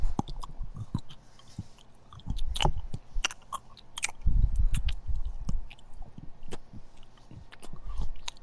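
Close, crisp crunching of a Mr. Beast chocolate bar being bitten and chewed, with sharp snaps scattered irregularly between softer wet chewing and quiet pauses, no speech.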